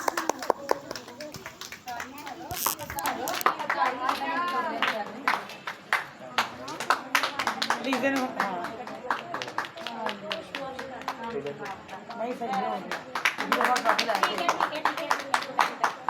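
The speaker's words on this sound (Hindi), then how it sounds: "भाई अदनान के लिए ज़ोरदार तालियां" Scattered clapping from an audience at a church Bible quiz prize ceremony, brisk and uneven claps mixed with continuous talking voices over the top.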